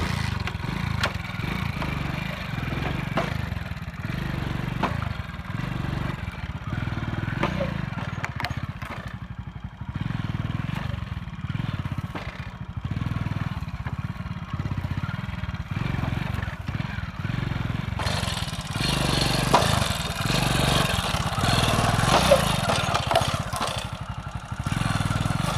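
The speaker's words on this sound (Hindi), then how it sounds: "अब सिंपली बाइक को स्टार्ट करते हैं और करते हैं इसको" A motorcycle fitted with a square rear tire idles and runs with a continuous low, loping engine rumble and rhythmic clatter, loud and close, growing noisier toward the end.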